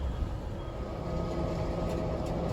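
Low steady rumble of a coal train creeping at constant slow speed while being loaded at a Peabody Energy loadout in Southwest Indiana, a continuous even drone with faint distant clanks and no talking.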